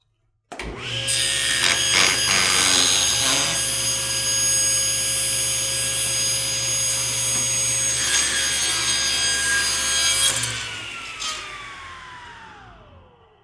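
A table saw cuts a wooden blank to make curved trim. The blade whines steadily and close through the wood for about ten seconds, then spins down as the saw is shut off.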